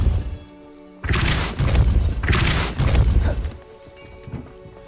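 A forceful spell blast in Hogwarts Legacy, heard as heavy crashing, thudding bursts that come in several loud waves over about two and a half seconds, then fade into quieter game ambience.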